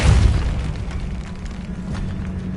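A Depulso spell in the Hogwarts Legacy video game lets off a deep, booming blast that decays into a low rumble, loud and alone with no talk.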